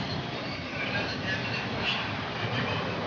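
A steady low rumble of a metro train running underground in Kızılay, Ankara, constant and fairly loud, with no clear voices on top.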